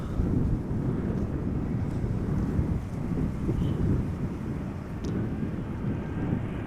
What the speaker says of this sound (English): Speedbird flight 8453 now touching down.